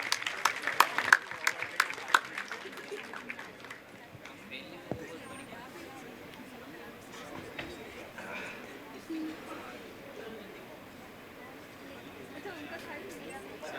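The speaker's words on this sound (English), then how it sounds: "Please appreciate the student with a huge round of applause." Applause from an audience at a National Unani Day felicitation of university toppers: a short burst of clapping in the first couple of seconds fades into a low murmur of crowd chatter and scattered background noise.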